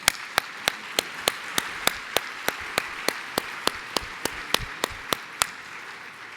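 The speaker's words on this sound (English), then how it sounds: "Give them another round of applause," Applause from a convention audience, heard here as a single pair of hands clapping sharply in an even, regular rhythm, roughly three claps per second, close and distinct over a soft background of room noise.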